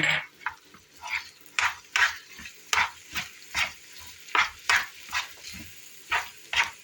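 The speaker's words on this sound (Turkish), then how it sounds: "Bir güzel karıştırayım." Minced meat and onions with tomato paste and spices being stirred in a frying pan, a spoon scraping in regular strokes about every half second over a soft sizzle, close and fairly quiet.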